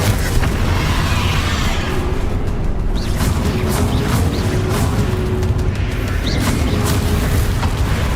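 In the Hogwarts Legacy game, the Expelliarmus spell is cast during a dragon fight, heard as sustained loud booming magical blasts and rumbling bursts that continue throughout, with no speech.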